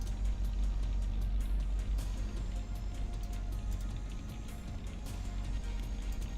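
Low, steady race car engine drone from Assetto Corsa on the Red Bull Ring National layout, faint and continuous with a constant rumble, heard alone without talk.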